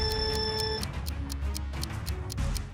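A countdown timer from a LEGO game ticks in a steady, even rhythm of sharp clicks, several beats over about three seconds, with a bright chime-like tone at the start and a low music bed underneath.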